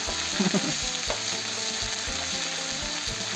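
Chili paste and bird meat stir-fry in a pan with a continuous close sizzle, punctuated by a few scraping and clanking strokes of the utensil early on; nobody talks.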